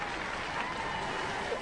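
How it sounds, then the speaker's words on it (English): Studio audience applauding on the robot-combat show Robot Wars, a dense, steady wash of clapping at moderate level that fills the short stretch without pause. "Give them a round of applause, ladies and gentlemen."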